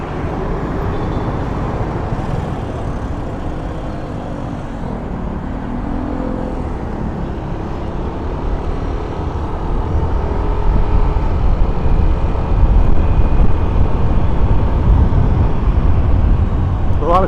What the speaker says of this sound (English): A lot of traffic on the other side of Ayala Avenue.